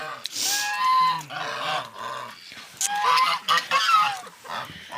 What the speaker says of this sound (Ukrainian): І мої гусочки, качечки.